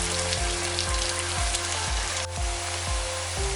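Chopped onion fries in about a spoonful of oil for a chicken vegetable soup, a constant close sizzle over a low, regular thumping pulse in the background.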